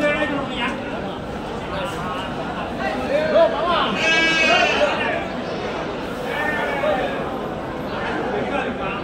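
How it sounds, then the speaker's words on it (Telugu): Rams at a large outdoor sheep market in Angallu, several bleats rising out of a steady crowd murmur, nearby and moderately loud, with people chatting throughout. "ఇక్కడ కొన్ని పొట్టేలు ఉన్నాయి"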